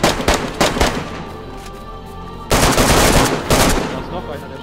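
Bursts of gunfire ring out in DayZ, loud and close, with rapid volleys of shots separated by short pauses and a longer sustained burst in the middle.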